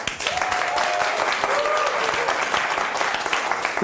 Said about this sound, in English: now big applause, please